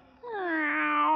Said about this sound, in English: No, Bartolito, that's a cat.